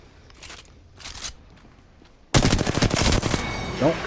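Rapid gunfire from the Apex Legends video game, a few muffled bursts first, then a loud, dense stretch of automatic shots near the end.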